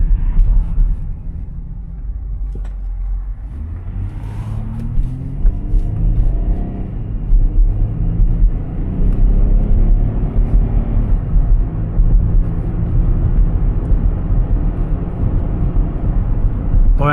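A 2008 Hyundai Sonata engine roars and revs up steadily, a loud, deep rumble that rises in pitch and holds for a long stretch.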